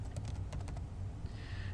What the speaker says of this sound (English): over here I can just type in